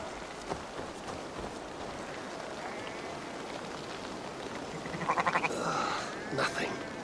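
Sheep bleating in Assassin's Creed Valhalla, a short burst of rapid bleats near the end over a steady rainy, rustling game ambience, with a few other faint sounds scattered throughout.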